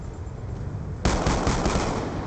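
Video game gunfire erupts abruptly partway through, a loud, dense automatic burst that keeps rattling after a quieter, muffled stretch at the start.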